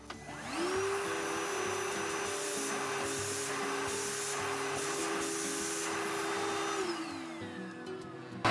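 A Ryobi R18PV-0 cordless 18 V vacuum cleaner and blower for dry vacuuming spins up, runs at a steady loud whine with airy rush for several seconds, then winds down.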